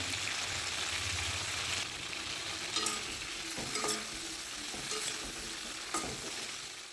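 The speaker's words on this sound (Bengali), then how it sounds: "এখন ফুলকপিগুলোকে ভেজে নিতে হবে" Cauliflower florets with stems fry in hot oil seasoned with turmeric and salt, giving a steady close sizzle with occasional stirring clicks throughout and no voices.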